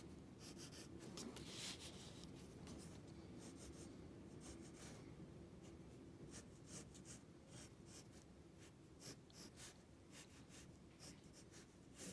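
Pen drawing lines of buildings across paper in a continuous faint scratching, with short strokes and soft rustles of the page, quiet and close with no talk.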